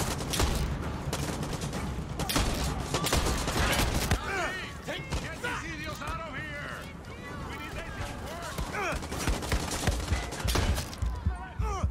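Rapid bursts of automatic gunfire in Far Cry 6 crackle densely through the whole stretch, loud and close, with a player's voice talking and shouting over the shots.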